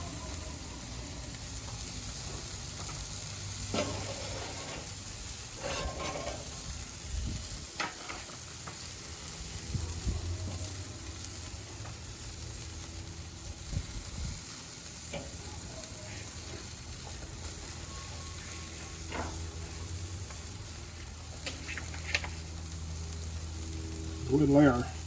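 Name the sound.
burgers and buns sizzling on a Weber kettle grill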